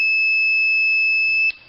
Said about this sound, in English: When these rollers are together and the power is on, it emits a siren sound like a CO2 fire alarm.